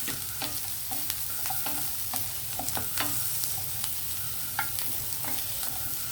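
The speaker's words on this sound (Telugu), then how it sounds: "ఇలా ఆనియన్ కొంచెం ఫ్రై అయిన తర్వాత మనం క్యారెట్ వేద్దామండి." Onion frying in a pan for Indian-style macaroni pasta, a bright constant sizzle punctuated by frequent sharp spoon scrapes and taps, close and prominent with no talking.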